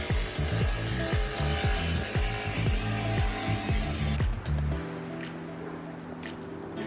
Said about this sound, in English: I'm just taking the jigsaw and cutting it out